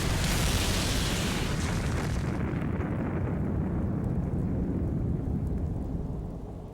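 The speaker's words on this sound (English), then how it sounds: "We're just shooting off guns." Dense, booming gunfire in the video game Digital Devil Saga, a continuous loud roar of blasts with a bright crackling edge early on that settles into a heavy rumble and fades slightly at the end.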